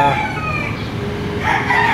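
A rooster crows at a livestock market in Padre Garcia, Batangas, a mid-distance call rising over a busy crowd murmur and background noise.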